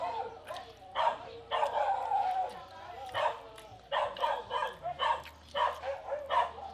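A dog barks repeatedly near an outdoor cooking spot, in a run of sharp yips and bow-wows with brief whimpers, loud and close, while people talk in the background.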